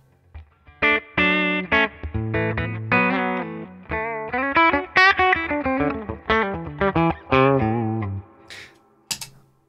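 An electric guitar runs through a Mythos Oracle pedal, playing distorted chords and single notes in a steady phrase for nearly ten seconds, loud and clear with no talking.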